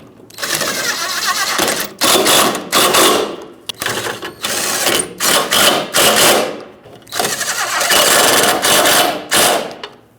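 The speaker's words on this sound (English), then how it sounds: "Torque these to 35 foot-pounds" A torque wrench ratchets on the rear bumper impact absorber bolts of a 2006–2011 Honda Civic, making loud, close clicking runs in several bursts separated by short pauses.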